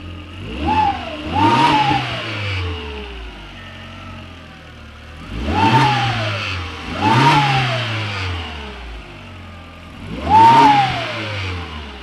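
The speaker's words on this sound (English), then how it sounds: "a healthy sounding turbo as shown" An Audi B5 S4 turbocharged engine revs up three times with a rising turbo whine on each rev, dropping back to a steady idle between bursts.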